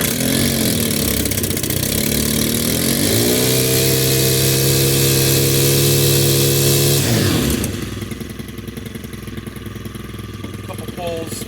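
A Stihl FS91R 4-stroke string trimmer roars close and loud at high revs, holds a steady whine, then drops to a rough, lower idle. A voice speaks over part of it.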